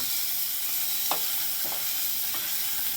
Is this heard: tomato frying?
yes